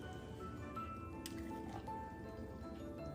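Chikoo juice poured from a jug into glasses in a home kitchen, giving a soft wet splashing and gurgling that runs steadily for a few seconds against a low background hum.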